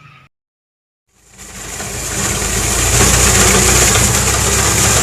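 A tractor-mounted reaper binder cuts wheat in a Punjab field, its engine starting up after a brief silence and then running loud and steady, a continuous close drone with no speech over it.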